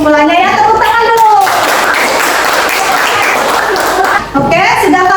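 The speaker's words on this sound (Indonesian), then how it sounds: "Tepuk tangan dulu." Students in a classroom break into a burst of clapping lasting a few seconds, loud and dense, with voices talking just before and after.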